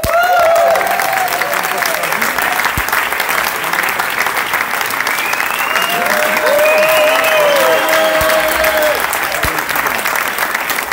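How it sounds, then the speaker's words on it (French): A large audience applauds loudly and steadily for Arnaud Van Lancker, known as Nono, at a French show, the dense clapping filling the room with a few whoops and cheers rising above it. "tout le monde applaudir très fort"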